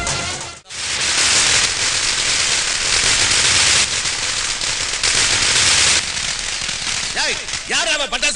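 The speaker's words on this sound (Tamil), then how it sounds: "யார் அவன் பட்டாசு வெடிச்சவன்?" A dense, loud crackle of firecrackers bursts continuously for several seconds after a brief pause, then thins out as voices break in at the end.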